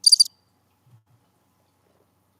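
Cricket chirping used as an awkward-silence gag: a single short burst of rapid, high-pitched chirps, loud and close, then near silence.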